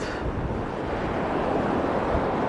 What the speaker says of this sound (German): Und schaut mal, wie stark der Wind ist.